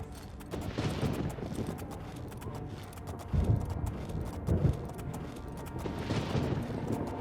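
Horse hooves clip-clopping in the video game Oblivion, a rhythmic run of hoof falls over a steady game backdrop, with a couple of heavier thumps partway through.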